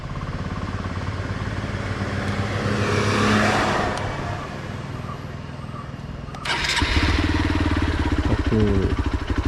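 A Hero XPulse 200 motorcycle engine idles, then is switched off and restarted, with a clear starter burst and then a steady close idle rumble.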